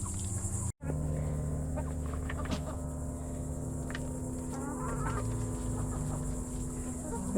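Hens clucking in a backyard coop, several soft, intermittent clucks and calls over a steady low hum, fairly quiet and close.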